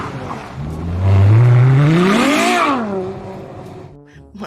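A toy race car gives a loud, close whirring rev that climbs in pitch, peaks and then falls away, with no talking over it.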